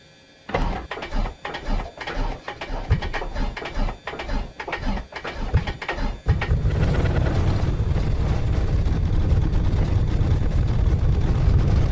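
A cold aircraft engine in Microsoft Flight Simulator cranks and sputters unevenly in loud rough pulses, then catches at about six seconds into a steady, continuous droning roar.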